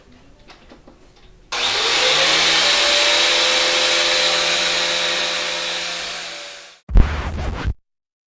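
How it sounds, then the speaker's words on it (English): A power grinder works down freshly cut metal pieces for a bearing slide in a home shop, a loud steady high whine holding for about five seconds before spinning down, followed by a brief second burst. "Time to grind these pieces down that I cut yesterday for the bearing slide."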